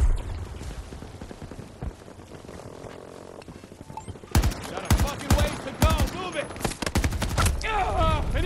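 Long-range gunshots in Battlefield 2042: quiet rumbling at first, then a string of sharp, loud single reports and short volleys at irregular intervals.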